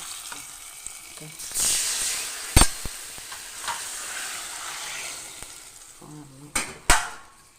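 Mustard seeds frying in oil as a tempering for sambar give a hissing sizzle, broken by sharp metallic clanks of a utensil against the pan, with a few louder knocks near the end.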